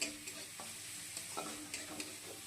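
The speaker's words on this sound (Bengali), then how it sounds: "ফার্স্ট পেঁয়াজ দিয়ে দেবো তেলে" Onions frying in oil in a home kitchen, a low steady sizzle with a few soft stirring scrapes and clinks spaced through it, fairly quiet and close.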